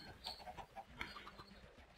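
Chickens in a basic Minecraft chicken coop give soft, scattered clucks at a low volume, with several short calls in a row and no talking.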